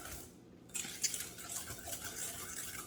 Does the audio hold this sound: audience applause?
no